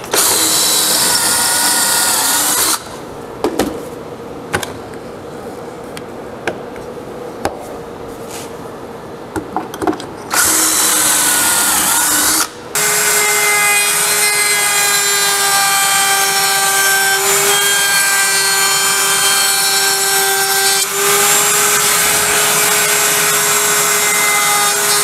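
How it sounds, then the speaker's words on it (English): Power tools work wood for a table frame, a drill boring pocket holes and a router rounding over an edge; loud bursts of whining motor noise start and stop, then a long steady high-pitched routing run with no talk. "For all my frame pieces, I'm putting pocket holes to attach it to the tabletop, and I'm rounding over this edge right here."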